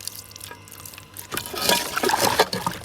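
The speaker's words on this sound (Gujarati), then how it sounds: "પાણીને આપણે નાખી દઈએ આમાં" Water poured into a pigeons' drinking container, a soft trickle building into a steady splashing fill that grows louder over the last half of the clip, heard close with no talking.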